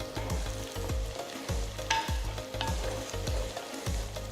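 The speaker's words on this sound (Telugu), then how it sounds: "తర్వాత చీల్చిన మూడు పచ్చిమిరపకాయలు కొన్ని కరివేపాకులు కూడా వేసి కలుపుతున్నాను" Onions frying with slit green chilies and curry leaves for a fish curry, stirred steadily: a continuous sizzle with regular scraping strokes of the spoon against the pan, close and even, no speech.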